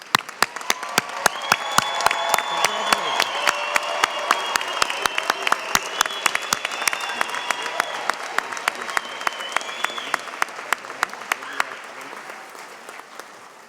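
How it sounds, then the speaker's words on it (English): Audience applause for graduates at the 2018 School of Dentistry commencement ceremony: dense, sustained clapping from a large crowd fills the hall at steady strength for the whole stretch, then tapers slightly at the end. "another round of applause for our graduates."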